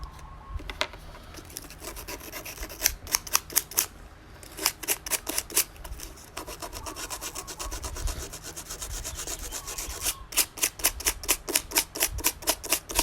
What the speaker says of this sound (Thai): เราก็ต้องทำความสะอาดใช้กระดาษทรายขัด